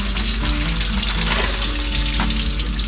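A rack of lamb is rinsed under running tap water in a kitchen sink, a loud continuous splashing gush with slight changes as the meat moves under the stream, and no voices.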